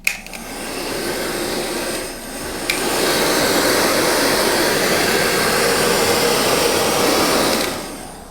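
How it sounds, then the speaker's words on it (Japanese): A hair dryer warms the tire of an INMOTION V10F electric unicycle during a tube change. It gives a loud, steady close-up whoosh that dips briefly, then holds a constant airflow roar until it cuts off near the end. "ドライヤーでもう一度タイヤを温めたいと思います"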